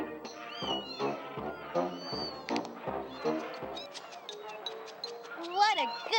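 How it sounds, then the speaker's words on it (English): Meowing from a mother cat stalking birds at a birdhouse with her kittens in the video game Amanda the Adventurer 2, heard as several rising, drawn-out cries mixed with game music and sound effects. "there is a cat and her babies hunting the birds that come to rest in the birdhouse"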